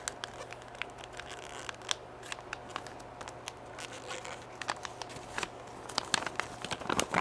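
Wrapping paper being folded and creased by hand for a holiday gift card: soft crinkles, light crackles and scattered sharp paper ticks, close but quiet, irregular throughout with a few louder crisp snaps near the end.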